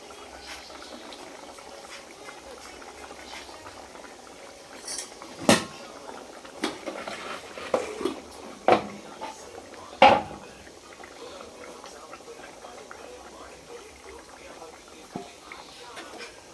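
Pieces of fish go one at a time into simmering lentil dal in a cooking pot, giving sharp utensil clinks and small splashes over a low bubbling simmer, with faint voices in the background.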